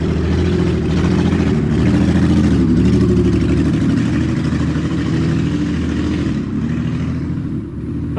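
Loud straight-piped car exhaust droning past on a city street, a steady heavy rumble that swells and holds for several seconds before easing off, with no talk.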